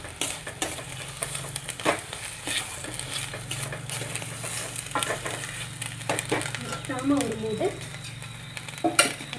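Bread halwa is stirred in an oiled pan on the stove, a continuous sizzle with frequent scraping and clinking of a spoon against the pan, with a brief spoken word partway through.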